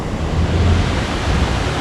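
Cascading waterfalls at Tamasopo in the Huasteca Potosina bathing area give a steady, dense broadband roar with a low rumble, constant and fairly loud across the whole stretch, with no voices.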